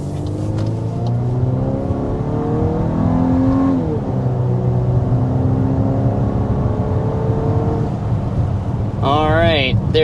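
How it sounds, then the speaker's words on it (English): A 2026 Volkswagen Atlas under hard acceleration to 60 mph, its engine note rising in a steady loud drone with climbing harmonics and a brief dip at a gear change, heard from inside the cabin. "there is our acceleration to 60 miles per hour with this Volkswagen Atlas"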